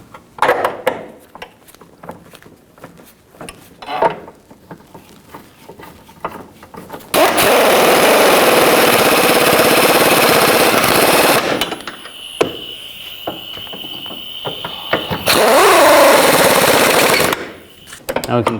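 Impact wrench running in sustained bursts while driving bolts on a 2007-11 Honda CR-V rear strut and control arm, loud and close, with quieter handling sounds before and between the runs.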